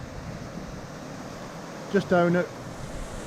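A waterfall at Keld roars in the rain as a steady, broad rushing wash close by, with someone speaking briefly over the noise.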